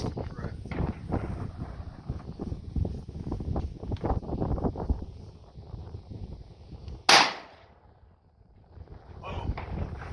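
A single sharp gunshot cracks at an outdoor shooting range, loud and close, following a stretch of wind and handling noise and then dying away into quiet.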